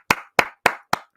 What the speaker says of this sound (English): Gotta give a nice clap to Matt Patricia right now